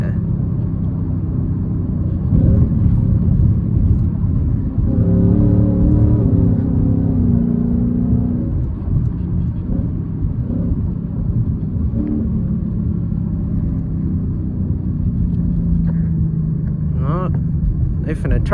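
A Mustang GT engine rumbles steadily while driving through the city at night, with shifting harmonic tones as it downshifts. People talk over the continuous, close engine drone throughout.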